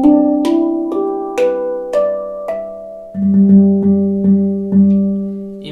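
Steel tongue drum (tank drum) notes struck one after another, each clear tone ringing out with sustained harmonics; a slower series of single notes gives way to a lower repeated note in quicker strikes, close and alone.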